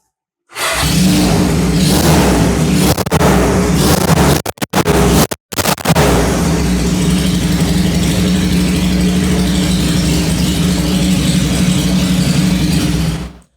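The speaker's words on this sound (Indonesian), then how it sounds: "Gue juga udah lama nih gak pernah nyalain ini motor" A motorcycle engine is started after a long idle, stuttering briefly before catching and then running loud and steady at a close, rough idle.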